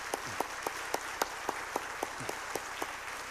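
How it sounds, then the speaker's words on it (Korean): A church congregation welcomes visiting missionaries with evenly spaced, rhythmic clapping: distinct claps about four per second over a soft background, with no talking. "뜨거운 박수로 환영하겠습니다."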